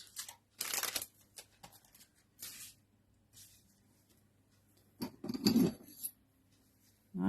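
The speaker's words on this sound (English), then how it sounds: "a nice sharp pair of scissors to cut the foil." Sharp scissors snipping through thin craft foil, a few separate bursts of crisp cutting and crinkling with quiet pauses between them, close and fairly loud.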